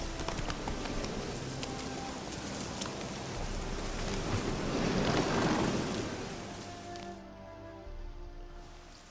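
Hooves of Roach, the horse in The Witcher 3, clip-clopping in a steady rhythm, moderately loud and close, over a wash of rain-like or surf-like ambience that swells in the middle and then thins.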